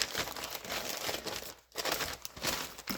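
Wax-free tracing paper is handled up close, giving a continuous crisp crinkling and rustling with one brief pause midway.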